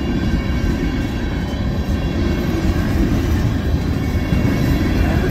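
A CN freight train rolls past at West Ladysmith in winter, a loud steady broadband rumble of wheels and cars that holds constant throughout with no talk over it.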